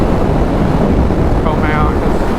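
Steady broadband wind buffeting a helmet- or bike-mounted GoPro on a moving motorcycle, a loud continuous roar with no breaks throughout.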